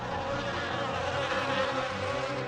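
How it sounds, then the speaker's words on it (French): A dense swarm of flies buzzes steadily and loudly, a continuous droning hum that stays constant throughout with no pauses and no voices. "de gros essaims de mouches commencèrent à pénétrer dans la maison de Pharaon"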